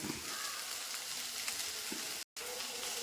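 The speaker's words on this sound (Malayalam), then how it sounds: "നമുക്കിനി നമ്മുടെ കറിയിലേക്ക് അങ്ങ് ഒഴിച്ചു കൊടുത്തിട്ട് ഒന്ന് അടച്ചു വെക്കണം" Hot fried tempering poured into a raw banana and fish curry gives a loud, steady sizzle that breaks off briefly before picking up again at the same level.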